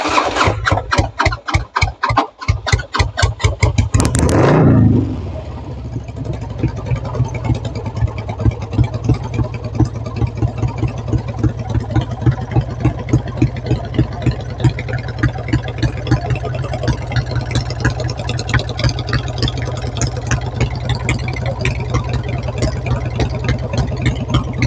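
A Harley-Davidson motorcycle engine cranks with rapid loud chugging, catches with a burst, then settles into a steady, deep, loping idle that runs close and alone for the rest of the clip.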